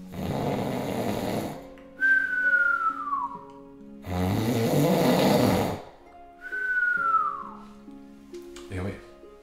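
A storyteller's voice imitates a wolf snoring loudly. Deep, rasping inhaled snores alternate with long falling whistles on the exhale, repeated twice and close up, ending on a short vocal sound.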